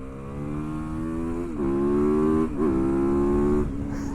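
A Yamaha YZ450FX supermoto motorcycle runs after sitting unused for two years. Its single-cylinder engine holds a steady close drone, then blips higher a few times in quick rises and drops.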